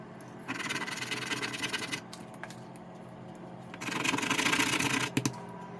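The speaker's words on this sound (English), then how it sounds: "So when you grate the nutmeg, it look like this." Nutmeg is rasped against a grater in two close bursts of scratchy rubbing, separated by a quieter pause, ending with a couple of light taps.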